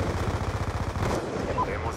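A rapid series of rifle shots from an SVU-AS in the Black Ops 2 video game, fired as quick rhythmic bursts that are loud and close before fading into game ambience.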